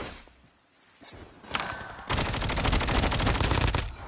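Rapid automatic gunfire in the mobile shooter Call of Duty Mobile, a sustained loud machine-gun burst following a few scattered shots, close and continuous for about two seconds.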